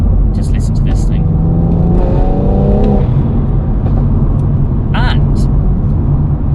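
A loud, close BMW M140i engine and exhaust, tuned, drone steadily throughout, with brief higher whines and chirps rising over the rumble.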